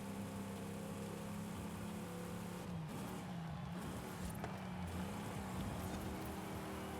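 A steady car engine in Forza Horizon 5, a 450 hp race car, drones loudly throughout, holding high revs with a brief dip midway, continuous and close with no other sounds.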